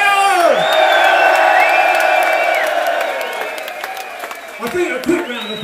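A campsite crowd at the Belgian Grand Prix cheering and whooping for Damon Hill, loud shouts and hollers rising and falling over scattered clapping, fading somewhat then flaring again near the end.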